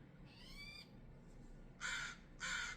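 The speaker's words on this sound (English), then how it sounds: "this bird, I thought there was a animal in the bush behind me. It's just a little bird" A small bird in a bush gives a few loud, close calls: a harmonic chirping phrase, then two short harsh bursts, with no talk over them.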